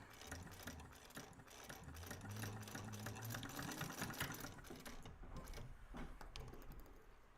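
A sewing machine stitches a bag seam near the bottom of the lining, running with a steady whirring, rattling mechanical drone that holds nearly constant throughout.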